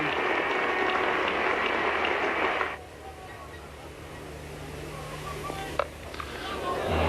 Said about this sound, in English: Wonderful crowd acclaim.